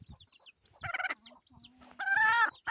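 Chickens in a goat shed where hens are kept cluck close by in short, uneven bursts, with a louder, drawn-out call at the end.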